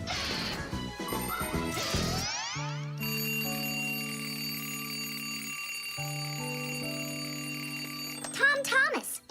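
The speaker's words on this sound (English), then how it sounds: "Tom Thomas, why is your alarm clock ringing in the middle of the night" Cartoon alarm clock ringing in the night: a tinny bell rattle gives way to a sustained, buzzing electronic ring that pauses briefly and resumes, with a short clatter near the end.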